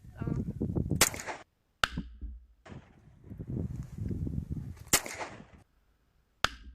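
A .177 air rifle fires hollow-point pellets into primers set against a hard backing. Four sharp, close cracks ring out at irregular intervals, with low rumbling handling noise in between.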